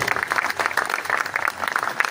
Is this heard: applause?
yes